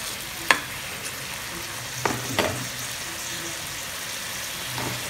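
Blanched broccoli and vegetables seasoned with salt and pepper are stirred in a frying pan, giving a steady close sizzle broken by a few sharp spatula scrapes and knocks.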